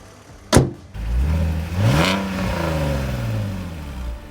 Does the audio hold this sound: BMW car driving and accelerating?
yes